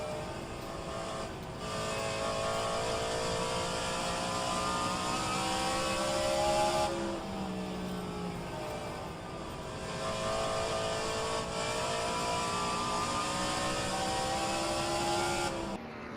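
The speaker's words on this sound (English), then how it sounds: "Josh Brink holding that car out there to the last second" Race cars drone steadily around Five Flags Speedway in a Buschwackers Series race, engines rising and falling in pitch as they pass, loud and continuous without commentary.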